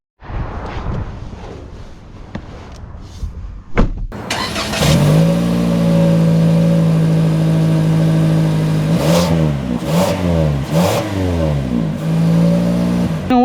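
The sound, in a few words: 2025 Toyota Corolla FX car accelerating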